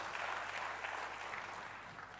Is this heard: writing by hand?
no